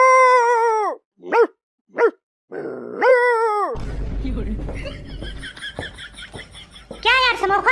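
A voice imitates dogs barking, a run of short yelping barks and a drawn-out howl-like call, close and loud, with a burst of noisy rustling and movement between them and a final bark at the end.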